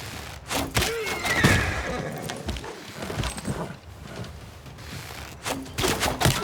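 A horse neighs from a horseman unit in the video game Civilization VI, set among busy battle effects with crackling gunfire-like bursts and clattering, a short whinny standing out early and again near the end.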